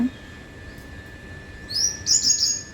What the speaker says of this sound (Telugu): ఇక చూడండి పక్షులు పొద్దున్న ఎంత అల్లరి చేస్తుందో చూడండి